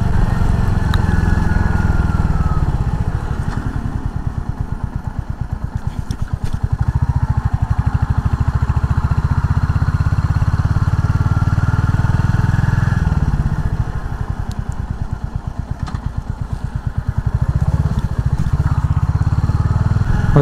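A Royal Enfield Hunter 350 motorcycle is ridden through village roads, its single-cylinder engine thumping steadily and loudly up close, with a brief dip in revs partway through and clattering mechanical noise throughout.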